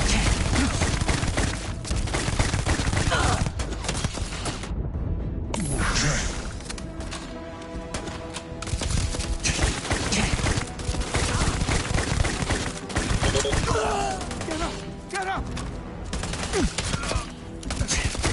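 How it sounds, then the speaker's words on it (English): Rapid bursts of player gunfire in the video game Starfield, loud and sustained with dense rattling shots, a brief lull, then more shooting mixed with game effects and scattered voices. "Girl, you walk right in front of me while I'm shooting my gun."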